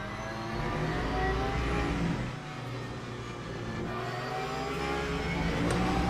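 Hypercar engine in the racing game Le Mans Ultimate, a loud sustained high-revving drone with steady tonal whine that dips briefly and climbs again, with no talk over it.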